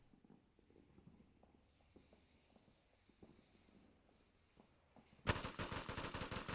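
In the VR shooter Onward, faint, scattered distant gunshots pop through a quiet stretch, then a loud, dense burst of close automatic fire erupts near the end.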